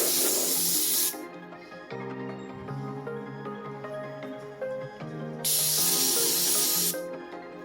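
Spray can misting clear coat onto a 3D printed Robocop suit, two loud close hissing bursts, one at the start and one later, with music playing in between and no talk.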